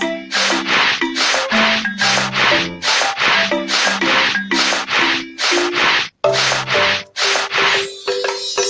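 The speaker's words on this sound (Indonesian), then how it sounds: "Rangka baja sedikit berkarat, bersihkan dengan amplas." Sandpaper rasps over a slightly rusty steel frame in steady, rhythmic back-and-forth strokes, close and loud, with faint tonal music underneath.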